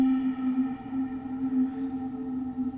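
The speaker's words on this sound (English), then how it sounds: "You can hear that's just a massive reverb, but it's now sending this synth through that FX plugin." A sustained Elektron Digitone synth tone routed through an iOS reverb plugin, with a steady low pitch and washed, smeared overtones, like a note drowned in a huge reverb; no voices.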